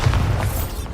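A Bombarda spell blast in Hogwarts Legacy, a single short, heavy boom with a deep rumbling low end, loud and close, fading quickly.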